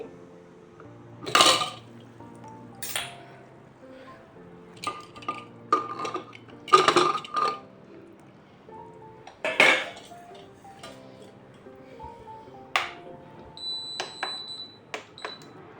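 A pressure cooker lid is opened after cooking a chickpea ghugni with meat fat, with several loud metallic clanks and clinks of pots and utensils spread through the clip, close by, with no talking.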